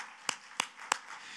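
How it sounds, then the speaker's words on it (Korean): Three sharp hand claps at a church service ring out evenly spaced, bright and crisp over a quiet background. "믿는 사람 하나님께 박수 영광."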